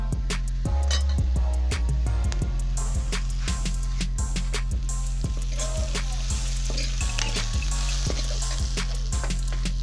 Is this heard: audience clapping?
no